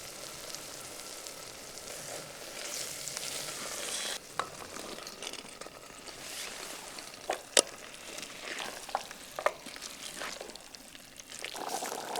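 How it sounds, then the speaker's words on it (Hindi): Spices and masala powder frying in oil in a pot over a campfire at a remote wild camping spot, a steady soft sizzle with occasional stirring scrapes and small clinks, no talking. "बढ़िया भुन गया, तेल मसाले भी अलग हो गए।"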